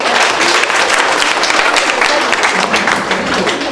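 An audience at an event for the children of a Goma–Bukavu orphanage claps steadily, a dense, even wash of applause that holds for nearly four seconds before cutting off abruptly.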